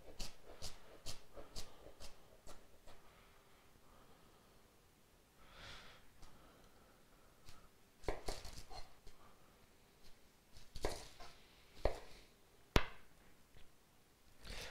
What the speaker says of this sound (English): Okay, then we'll chop these up.